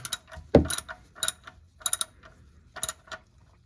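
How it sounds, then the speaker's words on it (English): Ratchet clicking as it snugs the oil drain plug on a Ford Expedition during an oil change, several short bursts of sharp metallic ticks separated by pauses, close and fairly quiet. "take your 16mm nut or ratchet, get it on there"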